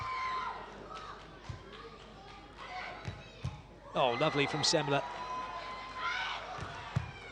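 A crowd at a women's beach volleyball semi-final at the Sochi Open erupts in cheering and shouts after a rally, swelling loudly midway, with a commentator talking over the scene and ball hits audible.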